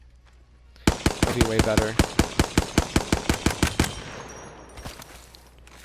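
Hemlok rifle in Apex Legends fires a rapid string of about fifteen sharp, loud shots in steady rhythm, followed by a trailing echo and a few faint later pops, with a voice speaking briefly over the end.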